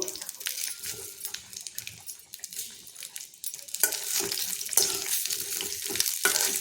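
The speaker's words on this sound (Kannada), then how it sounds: "ಸ್ವಲ್ಪ ಸ್ವಲ್ಪ ಹುರಿತಾ ಹುರಿತಾ ಹಾಗೆ ಮುಚ್ಚಿಟ್ಟು ಮಧ್ಯ ಮಧ್ಯೆ ಕಲಿಸ್ತಾ ಇದನ್ನು ಮೆತ್ತಗಾಗೋ ಹಾಗೆ ಹುರ್ಕೋಬೇಕು" Ivy gourd (tondekai) frying in a pan for a palya, a steady loud sizzle with scraping stir strokes throughout and a brief clatter near the end.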